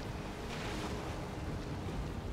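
Ocean waves surging around a boat in the video game Valheim, a dense, continuous rushing wash with wind-like roar, steady and loud throughout with no talk.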